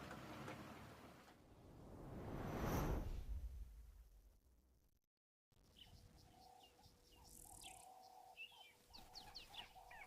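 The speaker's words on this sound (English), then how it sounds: "And also just picking up some bird sounds." Birds chirp and call at Djuma Dam, a soft scattering of tweets over quiet outdoor ambience after a brief swell of wind-like noise and a momentary dropout.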